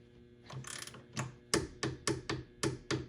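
A torque wrench tightens a bolt toward 33 foot-pounds with a series of sharp, close ratcheting clicks, first a few softer strokes, then six evenly spaced loud clicks; no one talks.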